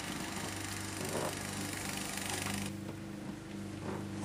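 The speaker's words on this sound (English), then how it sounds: "Why are lawnmowers so loud? My brother's mowing the lawn, and like, it's very loud." A lawn mower runs steadily nearby while mowing a lawn, a loud continuous engine drone with constant low harmonics that eases slightly in the last stretch.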